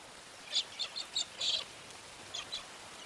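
Several short, high cockatiel calls ring out in a quick uneven series over a quiet background, moderately distant.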